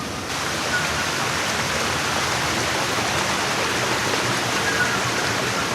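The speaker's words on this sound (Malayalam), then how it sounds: "ഈ വെള്ളച്ചാട്ടത്തിൻ്റെ മുകളിലോട്ട് പോകാൻ പറ്റും." Waterfall at the Chittar dam near Netta viewpoint, a steady, loud roar of rushing, splashing water with an unbroken broadband hiss, continuous throughout and with no talking.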